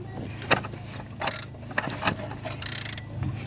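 Ratchet socket work on the oxygen sensor of a 2007 VW Jetta, heard as a few short mechanical clicks and metallic clatters spread across a steady low hum, close and moderately loud with no talking.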